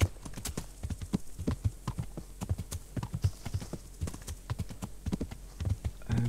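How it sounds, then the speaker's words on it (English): Horse hooves clip-clop steadily in Kingdom Come: Deliverance, a continuous rhythmic trot of close, crisp hoof strikes with no talking. "Okay, horse is tired, let's give him a short breather."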